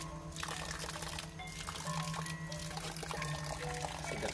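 Spring water from a rock cave source flows steadily at a Balinese temple bathing place near a shrine in Tabanan. The splashing and rushing is close, loud and continuous, with no voices.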